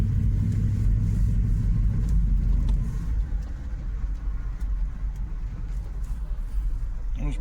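A Hummer H2 driving, heard as a low steady engine rumble from inside the vehicle that eases slightly partway through, with faint talk in the cabin.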